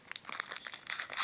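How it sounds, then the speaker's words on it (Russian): Small plastic bag being opened: brief close crinkling and crackling bursts in quick irregular succession, faint and alone without speech. "теперь откроем вот этот пакетик"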